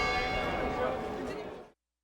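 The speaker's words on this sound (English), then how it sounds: "Actually, one bell meant the start of the workday." A single large tower bell struck once at a historic plantation, its sustained ringing tone loud and close, decaying over about a second and a half before cutting off.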